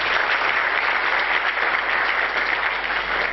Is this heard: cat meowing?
no